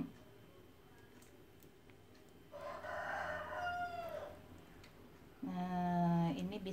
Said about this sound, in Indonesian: Itu ayam kesiangan kali ya.